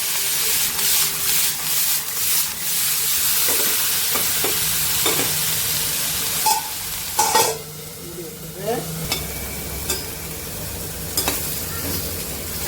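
Carrots, onion and green chilli frying in a pan are stirred, with a steady sizzle and scraping, irregular stirring strokes close by.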